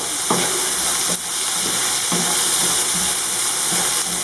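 Pasta with turkey and vegetables frying in a pan, a loud steady sizzle and hiss with soft periodic scrapes from stirring, close up and with no one speaking.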